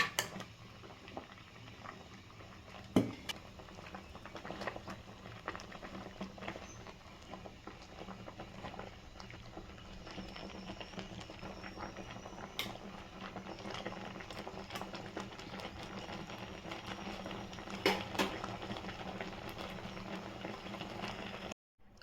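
Taro (colocasia) leaves boil in a pot for aluchi bhaji, a steady bubbling simmer with soft popping and occasional light clinks, continuous and close throughout.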